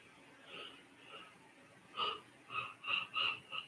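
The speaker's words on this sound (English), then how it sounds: "Don't mean to yawn." A person yawns with a long, breathy, wheezing exhale that swells in several ragged pulses, close and fairly quiet, with no talking over it.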